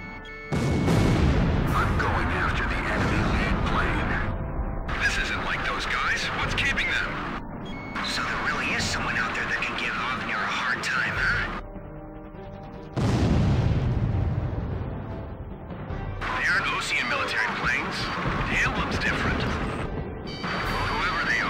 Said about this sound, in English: Blaze, you're going to have missiles flying at you